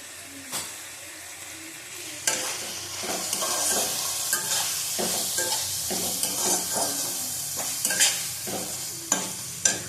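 Spices sautéing in a pan with turmeric and Kashmiri chili powder for a bhetki fish-bone chorchori, a steady close sizzle and frying crackle with repeated scraping stirs throughout, no voices.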